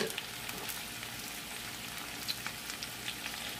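Green bell pepper and potatoes fry over medium heat in a pan, giving a steady close sizzle with small crackles and pops throughout, no talking.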